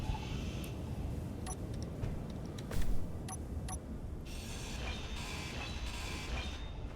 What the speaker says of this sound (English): I'm going to weld it to it